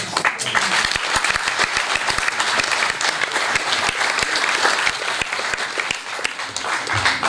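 Audience applause at a sports achievement award ceremony in Saint-Sever, sustained dense clapping from a large crowd filling the room steadily throughout.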